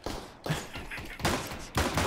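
Gunshots in Counter-Strike: Global Offensive, a few loud close bursts with a short reverberant tail, spaced roughly half a second apart over about two seconds.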